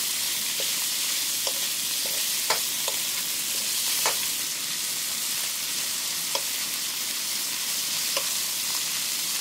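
Shrimp stir-fried in a deep pan with hot oil and minced scallion and garlic, giving a steady close sizzle with scattered sharp crackles and spatula scrapes through the whole stretch, no voices.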